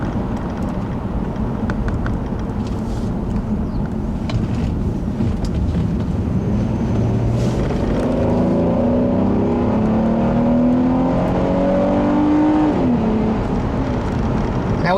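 A 2012 Mazda6 V6 GT sedan accelerating on a test drive, a muffled engine drone that builds and rises in pitch toward the end, heard steadily from inside the car.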